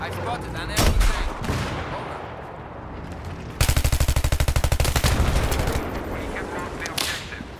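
Battlefield 3 Armored Kill on PC: a heavy gunshot, then a sustained rapid-fire automatic burst lasting over a second, loud and close amid ongoing battlefield rumble and scattered distant shots.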